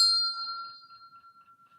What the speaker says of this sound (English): Bell, like this bell.